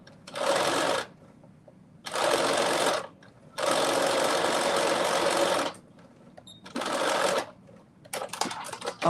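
A sewing machine runs a reinforcement stitch through already-joined fabric for a dress pattern, in four steady whirring bursts of about one to two seconds each separated by short pauses, close and clear with no talk.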